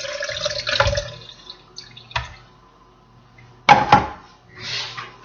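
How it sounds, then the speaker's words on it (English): Strained liquid is poured into a blender in a kitchen, with short splashing bursts and trickles separated by quiet gaps, plus a brief clunk midway. "I will use a strainer to get the excess seeds out of that and pour it into the blender."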